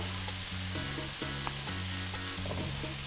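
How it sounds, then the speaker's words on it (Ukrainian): Pad Thai with soy sauce sizzles steadily in a hot frying pan with the heat switched off, a dense crackling hiss with a low hum underneath, close and continuous throughout. "залишаємо постояти, допоки шкварчить сковорідка"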